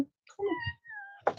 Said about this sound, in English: Yeah, that is a cat.